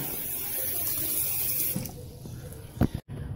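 Water running and gurgling back up through a drain during a sewer-snake clean-out of a home drain system, a steady close wash of flow that thins out near the end with a few small splashes.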